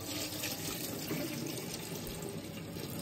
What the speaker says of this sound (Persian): Now wash some rice.